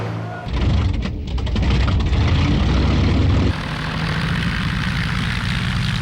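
Loud, rumbling engine drone of WWII Luftwaffe propeller planes approaching, a dense low roar that swells and then settles into a steadier hum, heard alone without voices.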